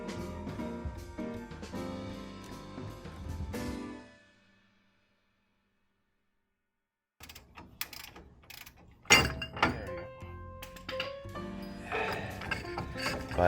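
Ball joint being pressed out of a Dodge Ram 1500 front control arm with a press tool, giving loud metallic clanks, ratcheting clicks and grinding, then a silent gap before sharper cracks and clatter.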